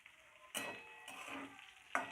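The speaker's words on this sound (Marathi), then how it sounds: "आपण मिरची बटाट्यासोबत दोन मिनिट फ्राय करून घेतलेली आहे" Green chillies and potatoes fry in a pan, a faint sizzle broken by a few brief bursts of stirring and scraping.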